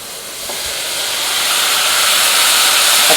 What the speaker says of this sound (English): It's going to steam out.